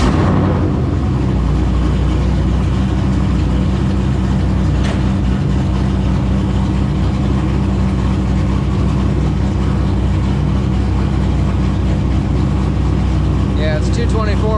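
A Chevrolet C10 truck engine fitted with a new carburetor and intake rumbles steadily and loudly at close range, holding a constant low-pitched drone before pulling away late at night; a faint higher tone rises near the end.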